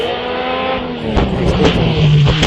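A Force TA hillclimb race car with a Cosworth KF engine runs on the British Championship hillclimb course at Doune, its engine a loud, high harmonic whine that rises through the gears with sharp revving bursts and shifts, heard alone.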